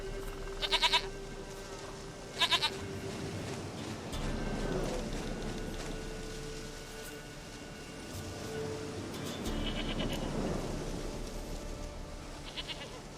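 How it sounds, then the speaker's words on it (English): Goat bleating in The Witcher 3: Wild Hunt, with two short bright bleats early and another faint one near the end over a steady ambient game backdrop. "Goat of mine, dearest, sweetest goat."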